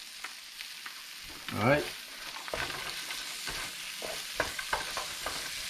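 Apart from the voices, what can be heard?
peas being stir-fried for fried rice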